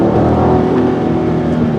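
A Volkswagen V6 engine downshifting and pulling under acceleration, a loud, steady, throaty drone heard from inside the car with no talking.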